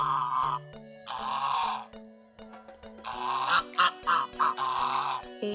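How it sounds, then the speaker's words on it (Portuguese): A flock of eight or nine African geese honks on a farm in loud, overlapping bursts of harsh calls, with brief gaps between volleys. "Acho que são 8 ou 9 gansos africanos."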